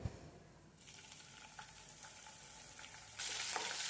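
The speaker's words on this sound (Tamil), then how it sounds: "இது நல்லா ஃப்ரை ஆகட்டும்." Cumin, ginger, garlic and green chilli fry in hot oil with a steady, close hiss that grows sharper and louder near the end, with faint stirring clicks and no talk.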